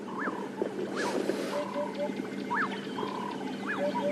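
Orioles call at dawn in the African bush, a few short liquid whistled phrases repeating at intervals over a steady background of other bird calls and insect hum.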